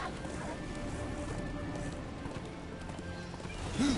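Rapid rhythmic hoofbeats of a galloping horse in the video game Darksiders 2, steady and close, over a low ambient hum with a brief tonal sound near the end.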